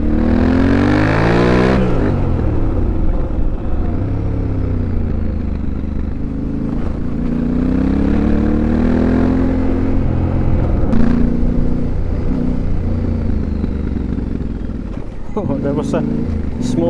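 Yamaha Tenere 700 motorcycle engine ridden off-road, a close, loud engine note that revs up sharply at the start and then holds a steady, varying drone, with talking over it.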